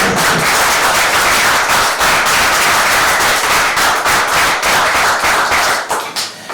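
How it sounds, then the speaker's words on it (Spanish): An audience at a political talk applauds a woman who survived the 11-M bombings, a loud, dense, continuous patter of clapping that thins slightly toward the end. "Yo también daría un aplauso para Ángeles por su fortaleza y por haber sufrido."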